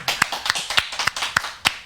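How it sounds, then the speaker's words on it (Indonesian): A seminar audience claps for health products, a sparse run of distinct individual hand claps at an uneven steady pace, close and moderately loud with little else around. "tepuk tangan untuk produk ini ya"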